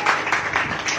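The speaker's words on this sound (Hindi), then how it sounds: "ताली बजा।" A church congregation clapping during a Hindi sermon: about four bursts of rhythmic hand claps in quick succession, close and moderately loud, filling roughly a second.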